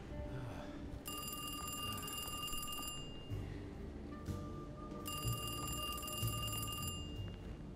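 An old-style telephone bell rings in the video game Alone in the Dark, two long trilling rings separated by a pause, heard over a low rumbling ambient background.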